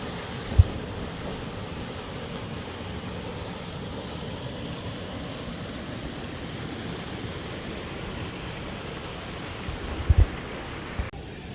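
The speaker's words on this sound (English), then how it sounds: "So I'm at the waterfall right here on the south fork of the Moormans River." A waterfall on the South Fork of the Moormans River in Shenandoah National Park, at a pool called the blue hole, gives a steady, close, full rushing roar that never lets up, with a few brief thumps near the start and end.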